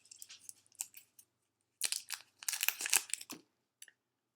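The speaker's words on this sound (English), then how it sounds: "So unwrap your Tootsie Roll." A Tootsie Roll candy wrapper is unwrapped close up: quiet, crisp crinkling in short bursts, with a louder stretch of rustling and tearing in the middle and then a final small crackle.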